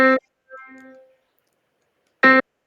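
A piano sounds two separate notes on the same key, middle C: a faint, soft tone first, then a brief, louder struck note after a pause, alone with no talk.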